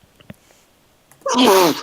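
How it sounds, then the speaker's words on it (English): A single loud sneeze bursts out after a near-silent pause, preceded by a few faint clicks. "There is this giant sneeze in the room."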